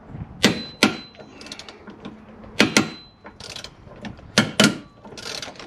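A cage nut spinning during cab mount bushing work on a 2008 Ford F-250, giving sharp metallic pops and clicks in uneven bursts, close and fairly loud with mechanical rattling between them.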